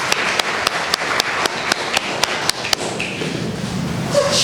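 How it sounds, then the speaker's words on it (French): Steady, evenly spaced claps ring out over a busy crowd murmur, the sharp slaps clear at first and fading into the background noise toward the end. "Applaudissez pour le vidéoman et le photographe."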